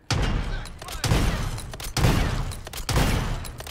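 MORS sniper rifle in Modern Warfare III fired rapidly without aiming: four loud, booming shots roughly a second apart, each with a long rumbling decay.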